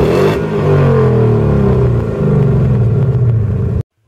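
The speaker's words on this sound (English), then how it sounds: "a catback exhaust is enough to make you giggle like a child every time you press that accelerator button" A naturally aspirated Ford V8 revs hard through a catback exhaust, a loud, deep roar that climbs and falls in two long pulls before cutting off abruptly near the end.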